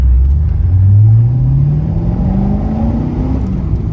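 A Corvette C6 Z06 accelerates hard from inside the car, a loud deep engine rumble rising steadily in pitch through the gear, close and continuous with no talk.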